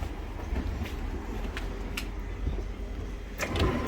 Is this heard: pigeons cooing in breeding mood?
no